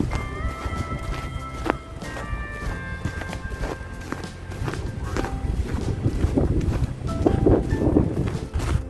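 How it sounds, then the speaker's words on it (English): Wind gusts buffet the mic on an outdoor walk, a rough low rumble that swells and fades, mixed with crunching footsteps and brief knocks, no talking. "wind really picked up now"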